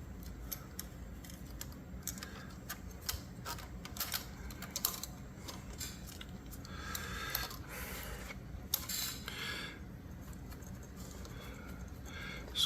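Ribbon being fitted into an Olivetti Lettera 22 or 32 typewriter, fed around the post and reversing lever: quiet, close-up scattered clicks, rustles and small metallic taps, irregular and faint, with no talking.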